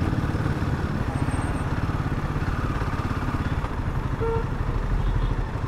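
A motorcycle engine idles close by with a steady, loud putt-putt thump that carries on evenly throughout, no voices over it.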